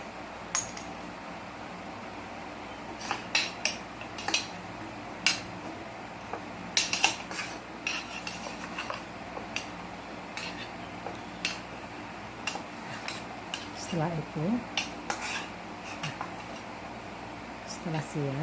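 A spoon or fork clinking against a dish while tape is prepared, scattered sharp metallic taps and scrapes repeating irregularly under a person talking throughout.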